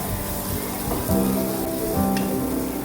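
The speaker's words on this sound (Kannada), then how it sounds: "ಲೋ ಫ್ಲೇಮಲ್ಲಿ ಚೆನ್ನಾಗಿ ಫ್ರೈ ಮಾಡ್ಕೊಳ್ಳಿ ಈಗ ನೋಡಿ ಚೆನ್ನಾಗಿ ಫ್ರೈ ಮಾಡ್ತಾ ಇದ್ದೀನಿ" Masala for rasam fries on a low flame, a steady, soft sizzle with a faint tonal hum running through it, close and continuous.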